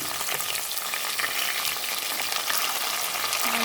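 Chopped onions fry in a pan after a bay leaf for chicken biryani, a loud, continuous close sizzle with no voices over it.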